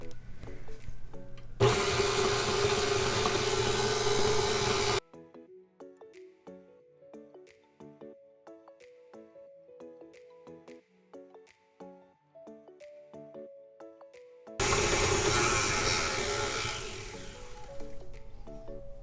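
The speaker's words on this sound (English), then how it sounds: "when creaming together these ingredients, we're going to be patient and we're going to give it a few minutes until it is light and fluffy" Electric mixer creaming cookie ingredients for hermit cookies, a loud broadband whir running for several seconds, giving way to a quieter stretch of rhythmic tones, then the mixer roaring back up near the end.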